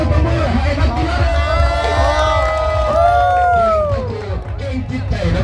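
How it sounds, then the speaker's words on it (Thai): A crowd at a boxing match in Xiangkhouang cheers loudly, with rising and falling shouts and whoops over a constant roar of voices and babble. The cheering is close and fills the whole clip. "ขอเสียงปรบมือให้นักกีฬา"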